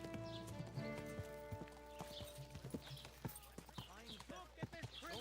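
Horse hooves clip-clopping on the ground in Kingdom Come: Deliverance II, a run of close, regular strikes with a whinny mixed in, while a voice speaks under them.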